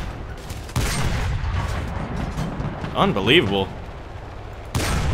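Type 95 Ro-Go tank firing its 37mm gun in War Thunder, sharp loud blasts with rumbling battle noise, someone talking over the gunfire.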